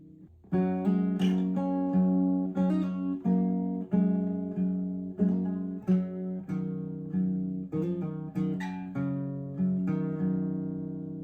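A single acoustic guitar picks out a slow melody, notes plucked one by one with some ringing together, played alone and clearly up close.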